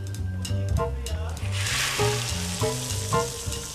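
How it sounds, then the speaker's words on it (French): Pork shoulder browning in a cast-iron pot over high heat gives a steady sizzle, with background music and knocks or taps sounding over it throughout. "Faites dorer votre palette dans une cocotte en fonte à feu vif."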